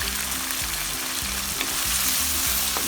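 Chicken breast sizzles loudly in a pan, with a steady hiss and frying crackle close up and a rhythmic stirring scrape beneath, while pancit canton guisado is being cooked.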